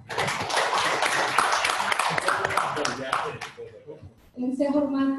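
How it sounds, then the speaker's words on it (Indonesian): An audience at a HIPMI Sidrap board inauguration ceremony breaks into dense, sustained clapping that fades out, then a voice starts speaking over the tail end of the applause. "Kita tepuk tangan dulu buat beliau."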